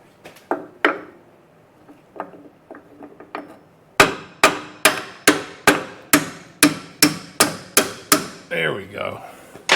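A small hammer strikes parts during a front suspension rebuild on a '57 Bel Air restomod. A few lighter taps come first, then a steady series of about a dozen sharp, loud metallic blows, close up, with brief speech near the end.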